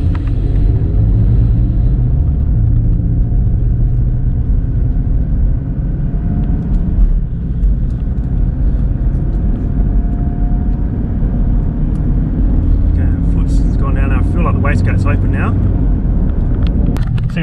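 A Mitsubishi Pajero engine rumbles steadily as the vehicle pulls away, with a continuous low drone and some brief higher mechanical whines near the end.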